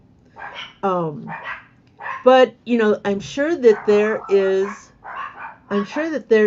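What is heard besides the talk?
dogs barking at someone outside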